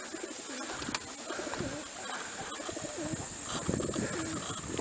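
Pigeons coo repeatedly in soft, rolling phrases close by, over a steady background hiss with a few brief chirps mixed in.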